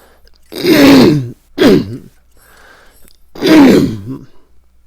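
A man clears his throat several times in separate harsh bursts, close and fairly loud, with brief pauses between them.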